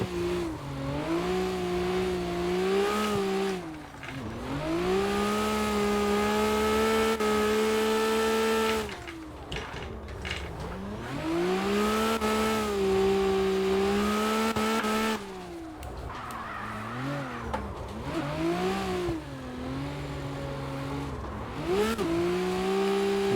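A 750 whp Nissan R32 GT-R with an RB26 engine revs hard around a track while drifting, repeated rising and falling engine wails close and loud, with brief lifts between pulls and no talking.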